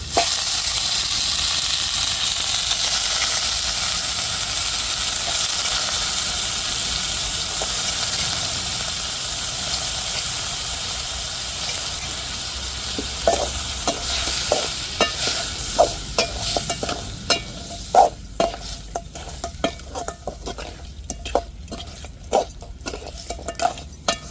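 Prawns and crab cook in a pan, first under a loud, steady hiss of frying, which then gives way to repeated metallic clinks and scrapes of stirring, close and clear.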